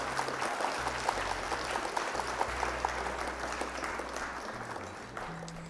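An applause sound effect of steady, dense clapping runs throughout at an even level, laid over low background music.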